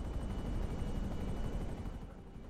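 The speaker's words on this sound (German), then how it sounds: "Ist ein Helikopter gekommen." A helicopter arrives in the GTA 5 Online video game, a steady, loud rotor roar with dense low thudding that holds throughout and fades slightly at the end, with no talk over it.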